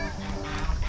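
Several geese at a zoo's goose plaza honk in a noisy, overlapping clamor, close and loud, with harsh nasal calls layered over low background rumble.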